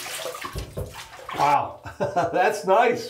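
Running water from a tap rinses after a wet shave with shave soap, a steady splashing flow under a man's close speech.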